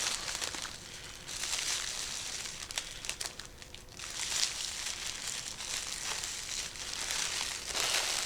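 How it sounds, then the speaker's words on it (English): Tape wrapped around the crinkly paper pleats at the top of a lollipop yard decoration, giving steady close rustling and crinkling for several seconds with a few sharper crackles and no talk. "I'm going to put a piece of tape around the top where your pleats are"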